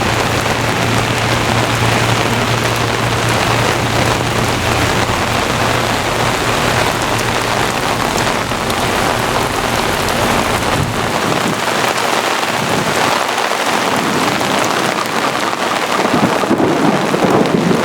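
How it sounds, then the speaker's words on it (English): Heavy rain pours steadily during a severe summer thunderstorm in Brooklyn, New York, with deep thunder rumbling low and continuous through the first half before fading, leaving dense rainfall hiss, no voices. "This is such of a beautiful thunderstorm, man."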